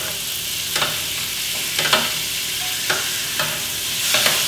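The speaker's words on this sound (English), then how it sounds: "baste that over the steak. Now all that's helping doing is starting it cooking from underneath. You've got the heat in the pan." Steak frying in a hot pan while melted butter is spooned over it, giving a steady sizzle with a few brief louder bursts as the butter is basted on.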